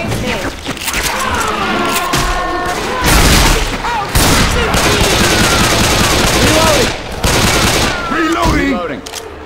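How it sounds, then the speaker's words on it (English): Gunfire in Left 4 Dead 2 on a custom campaign, with dense, continuous rapid shots and thuds from several weapons, loud and close, while voices shout over the fighting. "Shoot the mud men!"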